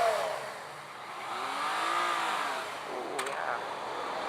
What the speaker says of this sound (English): Listen to that fantastic FZ-09 engine